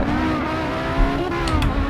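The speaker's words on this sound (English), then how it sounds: "I do love the sound of this car." An Audi Quattro engine in the racing game Assetto Corsa drones steadily at high revs, a loud continuous buzzing roar with slight pitch shifts and no talking over it.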